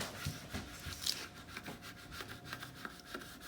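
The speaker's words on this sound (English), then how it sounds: "Use your scraper tool and scrape it down." A scraper tool is dragged repeatedly over a sticker sheet, giving soft, rhythmic rubbing strokes that sound close and quiet, with no talking.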